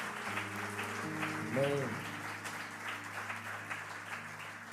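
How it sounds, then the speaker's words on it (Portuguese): A church congregation applauds after a short spoken word, the clapping steady and moderately distant beneath a sustained organ or keyboard chord, with a brief vocal rise in the middle. "Aplauda Jesus."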